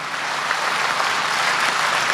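Dense, continuous applause from a large audience at a patriotic poetry recital in Pali, loud and even throughout with no pauses.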